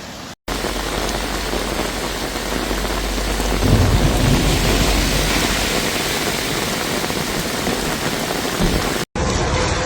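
Heavy rain pours steadily during flash flooding in Durres, Albania, with thunder rumbling low beneath the dense, continuous hiss of the downpour; the sound stays loud and close throughout, broken only by two brief cuts.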